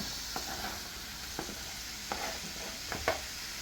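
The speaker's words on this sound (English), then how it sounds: "Now I'm doing the stir." Spaghetti being stirred in a pot while it cooks, with a steady hiss under several distinct scraping and knocking strokes spread at uneven intervals, no talking.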